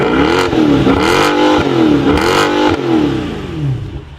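A Mercedes C63 AMG V8 revs hard close up, with several loud, aggressive throttle blips that rise and fall over a steady idle and no voices.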